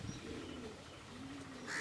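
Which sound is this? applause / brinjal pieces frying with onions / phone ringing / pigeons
pigeons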